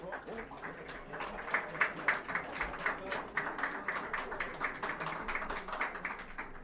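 An audience at a digital transformation challenge awards ceremony claps steadily in sustained, moderately distant applause, with a few louder individual claps standing out.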